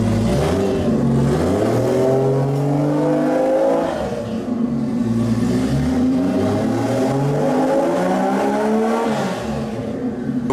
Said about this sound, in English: We're just going to start the car up now with the gearbox off.